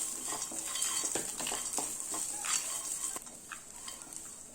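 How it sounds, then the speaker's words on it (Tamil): Grated coconut and sliced kovakkai (ivy gourd) fry lightly in a pan, a faint sizzle under repeated scraping and stirring of a utensil against the metal, with no talking. "அடுத்து தேங்காயை போட்டுக்கலாம். இதை லேசாக வறுத்துக்கலாம்."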